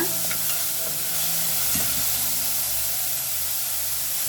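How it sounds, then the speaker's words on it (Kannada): Crushed garlic frying together with tomato in a pan gives a steady, close sizzle and hiss, with faint stirring and scraping through it and no voices. "ಬೆಳ್ಳುಳ್ಳಿನ ಚೆನ್ನಾಗಿ ಫ್ರೈ ಮಾಡ್ಕೊಬೇಕು ಟೊಮೊಟೊ ಜೊತೆಗೆ ಮಿಕ್ಸ್ ಆಗೋ ಥರ"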